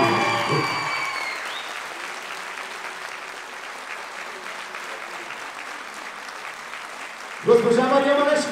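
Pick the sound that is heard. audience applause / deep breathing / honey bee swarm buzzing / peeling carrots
audience applause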